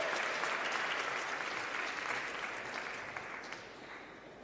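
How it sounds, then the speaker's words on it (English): Applause from a conference audience at a closing ceremony, dense and fairly loud at first, then gradually thinning and fading over about four seconds, with no voices over it. "let's give a big round of applause for our last live demo on stage"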